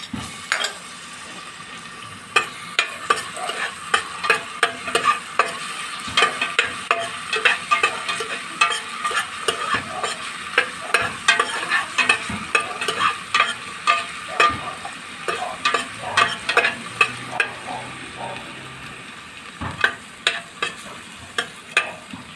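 Garlic sizzles and crackles in a hot pan for Bicolano-style ginisang ampalaya, with a spatula repeatedly scraping and stirring close up in a loud, continuous fry.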